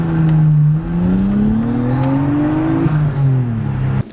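Turbocharged car under a hard full-throttle pull, loud engine note rising steadily in pitch through the gears with a brief shift break, close and alone without talk.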